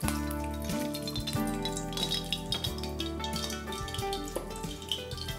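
Oil heats and sizzles in a pan for the gravy of a kaima idli dish, a steady close-up frying hiss broken by occasional clinks of a utensil against the pan.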